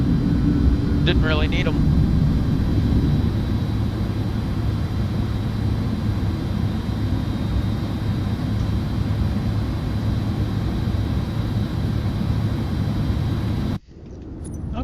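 Airliner thrust reversers roar after landing in Microsoft Flight Simulator 2024, a loud, steady broadband rush that holds for most of the clip before cutting off abruptly near the end, with someone speaking briefly over it.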